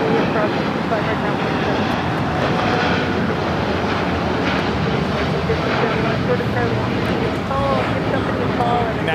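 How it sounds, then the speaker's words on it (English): A United Airlines Boeing 787-10 Dreamliner takes off at LAX on a flight to Tokyo Haneda, its engines producing a loud, sustained broadband roar that holds steady throughout, with faint voices underneath. "United Airlines Flight 39 taking off to Tokyo Haneda on the 787-10 Dreamliner"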